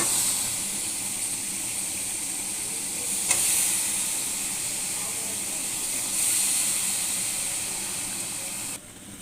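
Potato and eggplant cook in fried turmeric, chili, ginger and garlic paste, giving a continuous loud sizzle and hiss with one brief scrape about a third of the way through. The sizzle drops slightly near the end.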